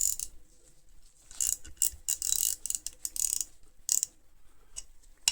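Ratcheting spanner clicking as the mechanism is worked, quick bursts of fine metallic ticks in uneven groups with short pauses between, close and fairly quiet, no voices.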